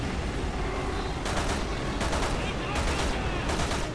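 Rattling bursts of automatic gunfire in Resident Evil 6 during a motorbike chase, several sharp volleys over a constant roar of engine and action noise.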